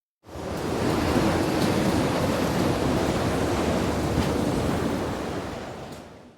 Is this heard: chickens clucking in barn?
no